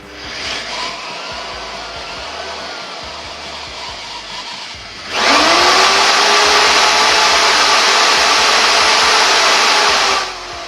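A drill mounted in a homemade drill press stand spins up to maximum speed with a sudden loud whine that rises briefly in pitch and then holds at a steady high hum for about five seconds before cutting off.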